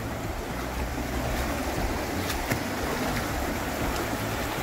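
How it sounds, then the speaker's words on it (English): Water rushes through small river rapids in northern Utah, heard from a kayak as a steady, close, broadband wash with wind buffeting the microphone and no voices. "It's like right in the little rapids."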